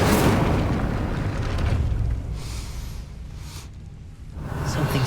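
A fiery spell blast in the Hogwarts Legacy video game erupts with a loud, booming whoosh that rumbles and fades, then swells again near the end; no voices.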